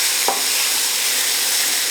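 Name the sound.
flour-dusted beef cubes browning in a pan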